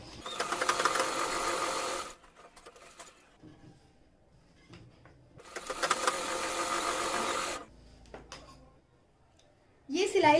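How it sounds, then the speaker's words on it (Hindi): An electric sewing machine stitches salwar fabric in two rapid rattling bursts of a couple of seconds each, close and fairly loud, with quiet pauses and handling noise between them. "यहाँ पर भी हम करीब 1 पैर का मार्जिन लेते हुए सिलाई लगाएंगे और इसी तरीके से दूसरी साइड भी सिलाई लगाएंगे"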